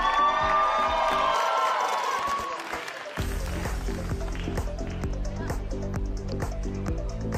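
Applause and cheers rise from a school innovation competition audience for a team, then fade as upbeat music with a steady beat takes over, a voice briefly heard over the crowd.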